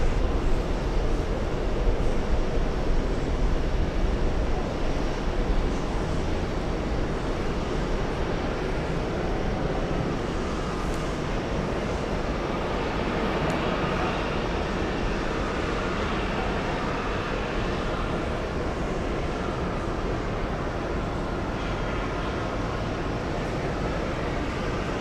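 Lufthansa 411, a Super-category airliner, taking off at JFK: a steady, broad jet roar holds for the whole stretch, heavy and sustained without breaks, no voices over it.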